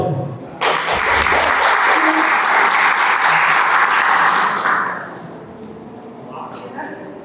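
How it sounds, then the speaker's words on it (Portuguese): An audience at a corporate governance panel breaks into loud, dense applause that swells and holds steady, then tapers off into scattered claps and faint room murmur. "Salva de palmas aí"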